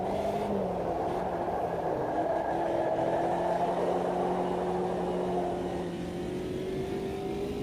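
A race car engine in the racing sim Automobilista 2 holds a steady, whining drone and then climbs gradually in pitch. It sounds close and continuous, with no talking over it.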